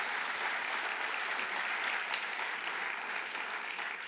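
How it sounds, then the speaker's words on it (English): Steady, dense applause from a large audience at a Latino entrepreneurship forum, sustained and even throughout without individual voices standing out. "a round of applause to all those that have really made this possible"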